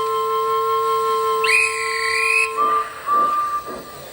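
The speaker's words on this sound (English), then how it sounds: "Thomas heard the guard's whistle" A guard's whistle in a classic Thomas & Friends railway episode gives one shrill, sustained blast for about a second, over a steady tonal hum, followed by softer rumbling sounds.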